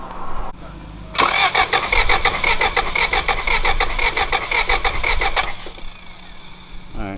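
Car engine cranking on the starter during a cylinder compression test, a rapid rhythmic whirring churn lasting about four seconds after a brief pause, then stopping, with faint background noise before and after.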